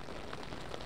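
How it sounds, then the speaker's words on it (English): Steady rain falls during a spring storm in the Grosse Pointe area of Metro Detroit, a soft, even hiss with faint scattered drops, heard alone and fairly quiet. "Hey guys, it's raining."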